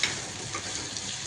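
Onion and chilli fry in a pan for kaju masala, giving a steady, soft, even sizzle close by with no voices.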